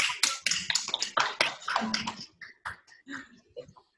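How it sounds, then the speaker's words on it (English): A short burst of scattered clapping from online meeting participants, dense at first and then thinning into a few separate claps before fading out. "I think we can applaud"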